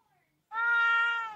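A single drawn-out cat meow in a cartoon, loud and close, rising and holding for about a second after a brief faint murmur.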